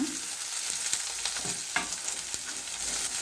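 Carrot, tomato and other vegetables sautéing in a pan with ginger, garlic and coriander for rava kichadi, a steady close sizzle with occasional stirring scrapes and spatula knocks.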